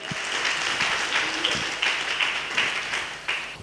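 A church congregation applauds together, with a dense, steady wash of clapping that stays loud and close throughout.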